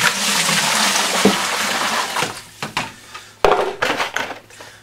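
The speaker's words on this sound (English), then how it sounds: "I'll just be putting some water in here." Water gushes and splashes into a hydroponics tub being cleaned, a loud pour for about two seconds, then breaking into irregular splashes and plastic knocks.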